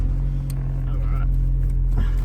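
A Honda Civic EK, recently recovered after being stolen, idles and drives with a steady low engine rumble close by, while people talk excitedly over it.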